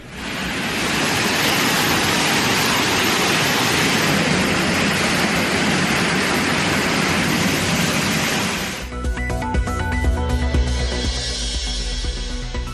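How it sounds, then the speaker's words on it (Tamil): Suruli waterfall in the Meghamalai forest, flooding after heavy rain, pours with a loud, constant, dense roar that stops abruptly and gives way to tonal sounds. "மேகமலை வனப்பகுதியில் கனமழையால் சுருளி அருவியில் வெள்ளப்பெருக்கு"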